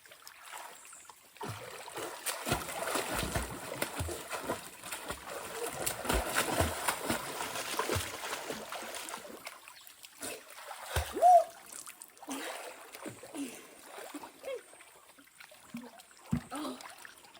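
Water splashes and trickles around someone swimming outdoors, irregular sloshing bursts near and fairly quiet, with a louder splash partway through.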